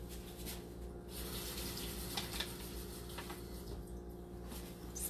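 A kitchen tap runs a thin, steady stream of water at close range, continuous and moderately quiet with small splashy variations and no talking.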